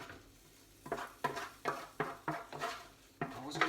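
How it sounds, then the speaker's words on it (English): Mushrooms tumbling into a pot of mushroom soup, a run of about seven soft clattering drops in quick succession, close and moderately loud over a faint kitchen background. "let's drop the mushrooms in"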